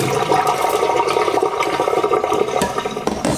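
Rice rinse water pouring out through a strainer in a close, continuous rushing gush that holds steady for a few seconds, with no talking over it.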